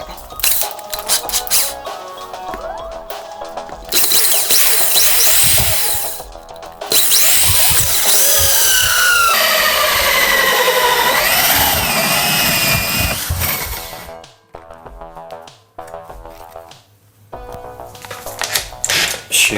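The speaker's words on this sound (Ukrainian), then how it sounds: "Для сверління буду використовувати ось такі кільцеві пили." A power drill with a hole saw cuts holes in a plastic bucket: long loud whining and grinding bursts with chattering and squeaks, brief pauses between cuts.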